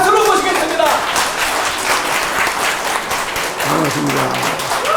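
An audience in a lecture hall at the National Assembly applauds as a speaker is welcomed, sustained loud clapping from a large crowd with a voice talking over it near the start and end.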